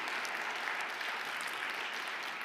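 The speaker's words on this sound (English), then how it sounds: "I think a huge round of applause" Audience applauding a panel of experts at a wood forum on joint health; a steady, fairly quiet wash of clapping from a crowd continues throughout without voices.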